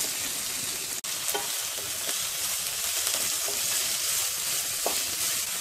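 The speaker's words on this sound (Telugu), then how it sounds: "ఇది వేగిన తర్వాత ఉల్లిపాయ ముక్కలు, పచ్చిమిరపకాయ ముక్కలను వేసుకుని వేయించుకోవాలి." Onion and green chilli pieces sizzle steadily in hot oil in a kadai, a dense continuous frying hiss with a few soft stirring scrapes, close and alone with no voices.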